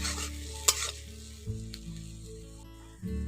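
Spice paste frying in a pan sizzles loudly when a little water is added, a bright crackle that rises and settles in waves with stirring scrapes, close up and alone.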